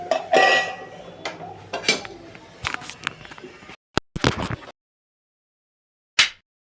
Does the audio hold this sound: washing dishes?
yes